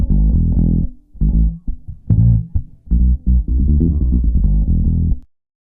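Hollow, thin-sounding bass from two combined bass tracks in a jazz fusion mix, played as a phrase of notes with short gaps, loud and alone with no talking.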